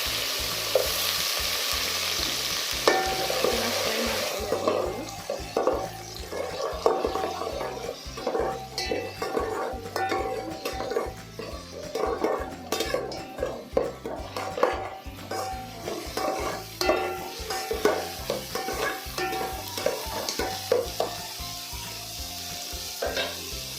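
Finely chopped onion frying with green chillies in a pan for Hyderabadi dalcha, a loud crackling sizzle that settles into a steady hiss, with frequent rhythmic spatula scrapes and stirring clatter throughout, close and without speech.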